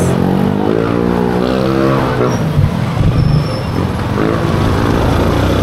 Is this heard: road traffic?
yes